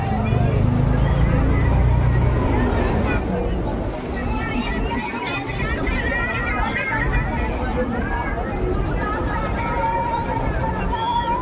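Boat running on the river at Triveni Sangam during the Mahakumbh mela, a steady engine drone and water wash under constant crowd babble and people talking nearby.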